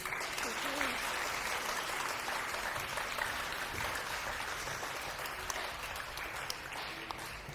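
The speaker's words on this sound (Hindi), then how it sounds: "सारिम के लिए बहुत सारी तालियां होनी चाहिए।" Studio audience applause on a Pakistani talk show, steady dense clapping held for several seconds at moderate level, with a voice faintly audible underneath.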